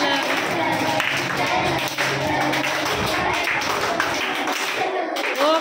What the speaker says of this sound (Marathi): लहान मूल विठ्ठल विठ्ठल करताना कशी टाळी वाजवतं?